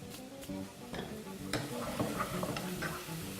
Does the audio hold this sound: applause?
no